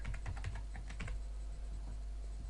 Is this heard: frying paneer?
no